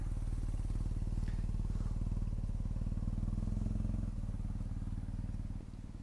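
Motorcycles, including a BMW R nineT and a Kawasaki Ninja 400, ride at night in Dubai, a close, steady low engine thrum with rapid firing pulses that eases off slightly toward the end.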